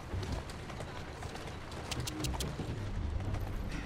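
Horse hooves clip-clop steadily in Assassin's Creed Syndicate's Victorian London, a quiet, continuous trot set in busy street ambience with faint bird calls.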